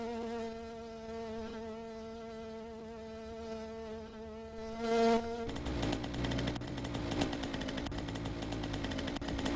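Urban Moto video game motorbike engine revving at speed, a steady high-pitched buzzing whine with many tight harmonics that shifts into a louder, rougher, busier roar partway through and then holds.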